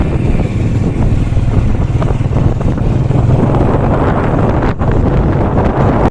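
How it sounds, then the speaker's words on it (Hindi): Heavy wind buffeting the microphone while riding a motorcycle, a loud continuous roar and rumble with no break, heard on its own without any talk. "और हम मोटरसाइकिल पे हैं"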